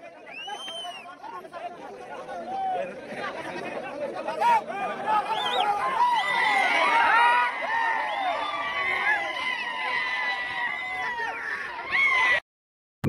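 Fans at a bullock cart race semifinal cheer in a dense, continuous roar of shouts and whistles that swells midway, stays loud and close, then cuts off abruptly near the end.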